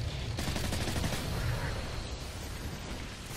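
Silenced gunfire in Modern Warfare 3 comes as a short cluster of muffled, close shots over a continuous gritty battle din.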